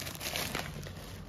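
Crinkling and rustling of a vacuum-sealed plastic package from a 3COINS shop being handled and opened, heard close up as a continuous dense crackle with no talking.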